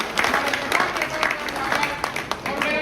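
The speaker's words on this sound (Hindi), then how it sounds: "जोरदार तालियों के साथ" Applause from the audience at a political party meeting, clapping rising and falling in bursts beneath someone talking over a loudspeaker.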